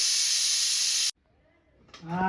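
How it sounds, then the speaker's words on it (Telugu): A pressure cooker whistle releases steam in a loud, steady hissing rush that cuts off abruptly after about a second, followed by quiet and then a voice starting to speak. "విజిల్స్ వచ్చేస్తున్నాయి గాయస్. 3 విజిల్స్ రావాలి."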